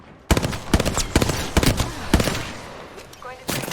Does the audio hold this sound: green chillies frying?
no